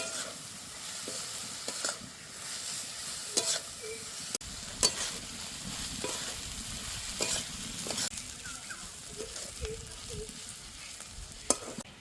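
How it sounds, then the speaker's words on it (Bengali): Onion, garlic and green chili frying in a pan for a prawn bharta, a continuous soft sizzle broken by repeated spatula scrapes and stirs at an irregular pace, with no voices. "পেঁয়াজ রসুন লঙ্কা দিয়ে ভালো করে ভেজে নিয়েছি"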